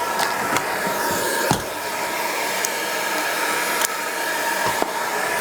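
A steady, loud vacuum roar runs throughout, with a faint watery hiss as water trickles slowly into the vacuum hose during carpet cleaning, and a few sharp clicks and knocks.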